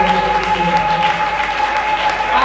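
Church congregation applauding steadily throughout, a dense continuous clapping that stays loud and even from start to finish, with a faint voice mixed underneath.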